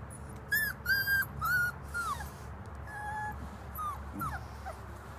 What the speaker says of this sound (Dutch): En allemaal hele mooie, lieve, vrolijke hondjes.